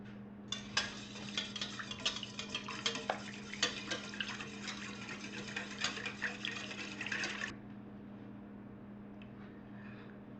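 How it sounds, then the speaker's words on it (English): Corn dog batter ingredients, including honey, being mixed in a bowl, a steady scraping and clinking stir that runs for several seconds, then stops, leaving faint room hum. "we mix these ingredients and make sure these are all combined well"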